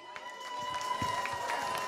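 A crowd at the 2019 Parkstad song contest applauds and cheers for the evening's top performers, a dense, fairly quiet patter of clapping lasting a couple of seconds.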